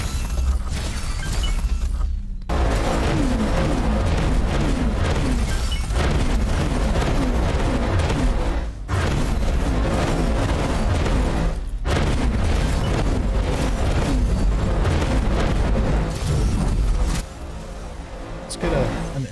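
Main batteries in X4 Foundations pound a space station in a dense barrage, a constant roar of heavy booms and crackling impacts with brief gaps between salvos, while a voice talks over part of it.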